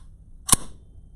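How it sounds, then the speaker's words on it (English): The bolt of an airsoft M14 EBR rifle is worked once, producing a single sharp, loud metallic clack up close, with near silence around it. "Now, you can hear the significance of this bolt."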